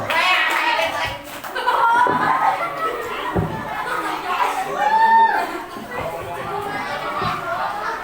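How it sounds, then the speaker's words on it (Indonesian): Children clapping together at an Islamic study session in a primary school, a busy patter of small hands mixed with excited chatter and kids' voices, moderately loud and close throughout. "Oke, tepuk tangan dong."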